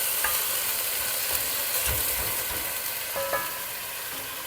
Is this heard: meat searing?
yes